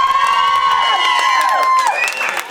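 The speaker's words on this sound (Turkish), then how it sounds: "Alkış var mı?" Audience at a Turkish wedding-style celebration cheers and whoops loudly, with high shouts and whistles over a continuous roar of crowd noise and some clapping, near and sustained throughout.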